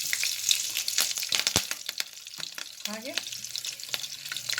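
Green chillies frying in about a tablespoon of oil in a pan over a low flame, with steady crackling sizzle and spattering pops, a few stirring scrapes, and a brief spoken word.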